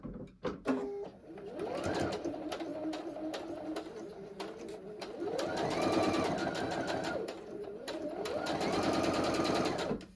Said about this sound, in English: And then I'm going to sew right on the line.